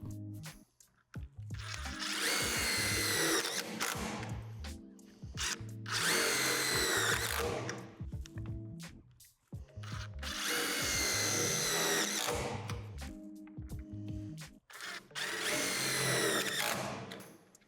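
A power drill drives self-tapping screws into a basketball backboard's frame pads in four long whining bursts, close and steady, with brief quiet pauses between each screw.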